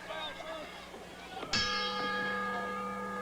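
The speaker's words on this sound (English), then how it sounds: "The bell has sounded" A wrestling ring bell rings once to start a match at the Superdome in New Orleans, a sharp metallic clang that rings out and sustains, with crowd noise and a commentator's voice underneath.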